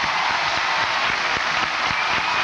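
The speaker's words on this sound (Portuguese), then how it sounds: "Aplausos" A TV studio audience on an SBT variety show applauding in a steady, dense burst of clapping that fills the room, with scattered sharper claps standing out.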